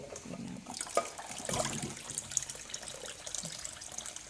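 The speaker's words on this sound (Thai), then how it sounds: "ล้างให้ ถูถูให้ดินออกให้หมดเนาะ" Tap water runs over sweet potatoes being washed and scrubbed by hand to remove dirt, with close splashing, intermittent rubbing and trickling at a moderate, steady level.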